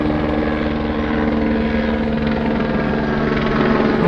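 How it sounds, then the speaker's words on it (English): A helicopter passes overhead above a back street, its steady, loud rotor thrum continuous and dense throughout with no talking. "Chopper above, guys."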